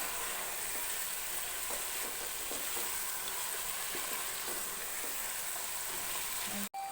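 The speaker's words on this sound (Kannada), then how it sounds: "ಚಿಕನ್ ಒಗ್ಗರಣೆಲೆ ಒಂದು ಏಳೆಂಟು ನಿಮಿಷ ಚೆನ್ನಾಗಿ ಫ್ರೈ ಮಾಡ್ಕೋಬೇಕು" Chicken pieces frying in a spiced oil tempering for methi chicken biryani, giving a steady, close hiss and sizzle that holds evenly throughout and cuts off abruptly at the very end.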